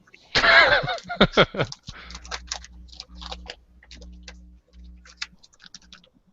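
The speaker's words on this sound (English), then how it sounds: "Let me fold this paper." Sheet of paper being folded and handled, a burst of loud crinkling and creasing rustles up close for about two seconds, then sparse quieter crackles and taps over a low steady hum.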